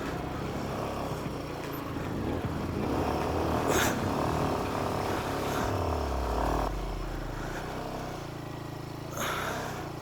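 A motorcycle engine runs on a high mountain ride to Umling La pass in Ladakh, a steady close drone with a low rumble swelling midway, the bike reported to stall when put in gear.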